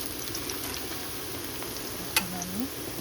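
Chili frying in a frying pan makes a steady, soft crackling sizzle throughout, with one sharp tap partway and a faint voice murmuring in the background.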